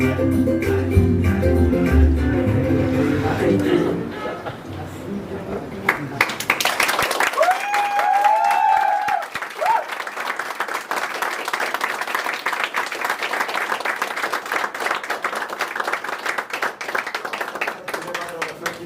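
An audience claps after a romantic comedy-tragedy stage play, a band's music fading out before the brisk, moderately close applause takes over and carries on steadily to the end.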